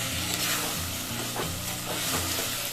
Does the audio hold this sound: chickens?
no